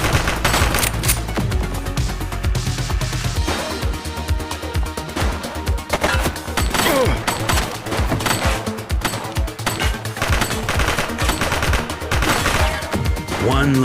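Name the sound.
gunfire from the video game The Precinct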